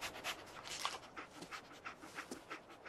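A dog in the video game Fallout 4 pants and sniffs quickly and rhythmically, a soft, close series of breathy puffs with no other sound over them.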